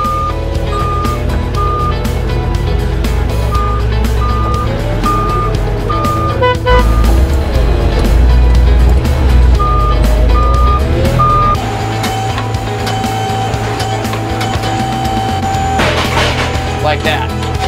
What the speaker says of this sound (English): The first cutting cant on the Heister, gonna drive it over, put it on the in feed